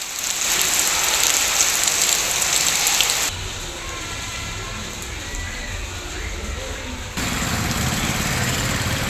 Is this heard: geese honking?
no